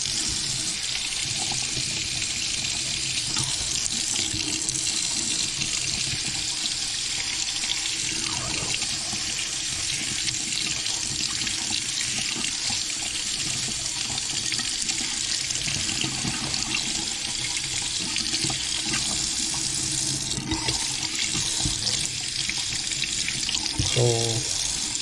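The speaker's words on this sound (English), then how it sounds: "Not much hot water coming up this way." Water runs steadily from a repaired faucet in a medical center, a continuous close hiss and splash that holds an even level throughout, with a brief clatter near the end.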